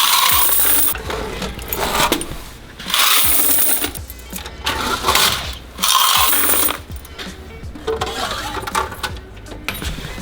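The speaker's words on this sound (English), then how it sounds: "I am emptying quarters for the second time since we've owned it." Quarters clatter and jingle loudly in bursts as they pour out of a laundromat dryer's coin box and tumble, mixed with mechanical rattling and scraping.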